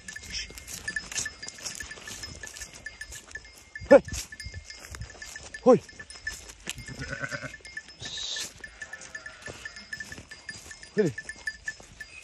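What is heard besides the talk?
sheep and lambs bleating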